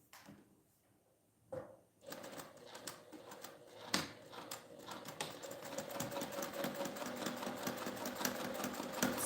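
A sewing machine starts up after a quiet pause and stitches a travel passport organizer with a fast, steady mechanical chatter, close and continuous to the end.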